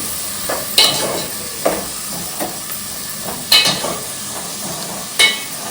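Chopped amaranth stems frying in a pan under a soft steady sizzle, with a spoon scraping and stirring in several distinct strokes.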